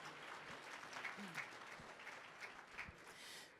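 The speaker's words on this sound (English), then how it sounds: "please give a round of applause to my panik, Caramello Swan" Applause from the audience at a national gathering on unmarked burials in Winnipeg, greeting throat singer Caramello Swan: a steady, fairly faint wash of clapping that holds evenly for several seconds.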